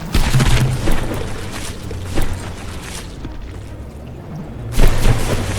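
Battleship gunfire in the naval combat game From The Depths, with heavy booming shots from a battleship firing a large volume of rounds over a constant rumbling background, loudest at the start and again near the end.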